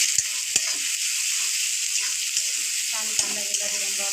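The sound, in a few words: onion being fried and stirred in pan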